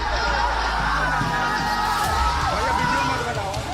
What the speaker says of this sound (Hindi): मासूम की मौत पर गुस्सा ऐसा भड़का कि भीड़ बेकाबू हो गई।